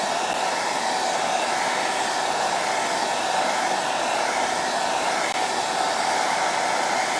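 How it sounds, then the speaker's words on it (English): Hair dryer blowing steadily at close range to dry craft paint on upcycled Easter wall decor, a constant loud rushing whoosh with no pauses. "let me hit it with the dryer and make sure it's dry"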